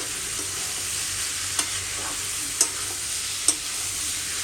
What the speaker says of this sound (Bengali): এবার ধরে হালকা কষিয়ে নেবেন